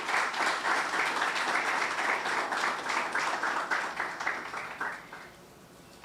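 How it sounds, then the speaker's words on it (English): Audience applause at a student internship programme closing ceremony, steady and full for about five seconds, then thinning out and fading toward the end. "Can I have a round of applause"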